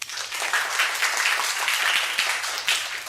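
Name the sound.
classroom applause for a student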